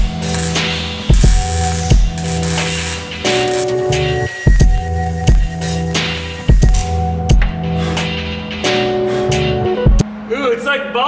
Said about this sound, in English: I can't see where I'm welding, so I just start the pool and then move until I get to where I need to be.